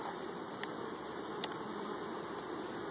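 Honeybees being shaken into a hive while a first-year nuc is split, a soft continuous buzzing drone with a couple of brief knocks, quiet and steady, without talk.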